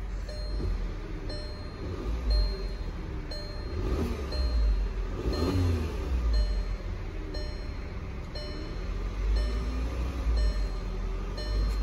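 A 2016 Volkswagen Tiguan with a 6-speed DSG automatic idles with a low, steady engine rumble, heard fairly close with slight surges and faint chimes over it.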